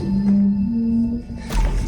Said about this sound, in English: they hear what almost sounds like a loud wailing moan from somewhere very close by